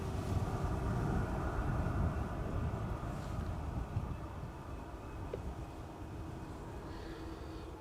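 An Embraer 195 E2 airliner arriving at Amsterdam Schiphol Airport gives a steady broad engine rumble and whine heard from a distance, with wind noise on the microphone.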